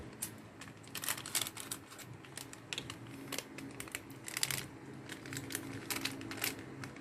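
Scissors snip open a yeast packet in a quiet series of crisp, close clicks and rustles, irregularly spaced and faint.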